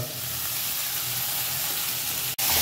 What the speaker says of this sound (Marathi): तर आपण टाकणार त्यात डाळ